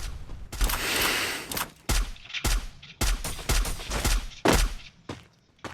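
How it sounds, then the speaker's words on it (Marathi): Rapid gunfire bursts in a Free Fire battle royale match, loud and close, coming in repeated sharp volleys with short gaps between them and no talk over them. "कोणतरी फायरिंग करतय."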